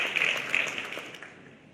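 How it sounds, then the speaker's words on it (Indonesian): Applause from an audience at a large public event welcoming Pope Francis in Jakarta, Indonesia: brief, moderately quiet clapping that fades out within about two seconds. "Kepada adik Brian, kita undang dengan tepuk tangan dulu."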